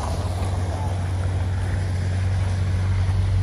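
A Jeep cruises past at a beach Jeep gathering, its steady low engine drone holding close and constant, mixed with wind and crowd ambience.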